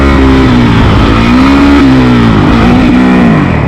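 A Honda CRF450L motorcycle engine drones loudly at close range during a wheelie, its pitch rising and dipping with throttle changes in a continuous buzzing roar, no voices over it.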